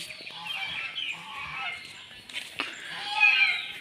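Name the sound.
geese honking near a cowshed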